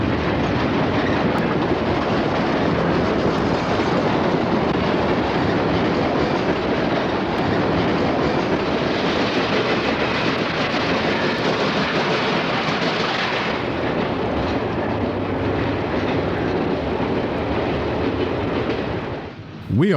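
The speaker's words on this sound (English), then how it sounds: "An eastbound freight comes rolling out of the fog" A long, steady rumble of an eastbound Rock Island freight train passing close by in fog, continuous roar with wheel clatter throughout, fading slightly near the end.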